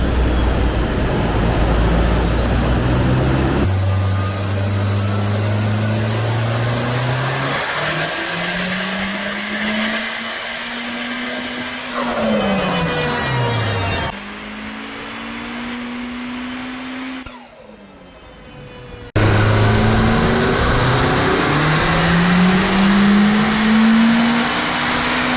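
A tuned race car engine with an ignition misfire revs hard and loud in repeated rising sweeps, dipping and climbing again, with rough crackle, tire noise and no voices.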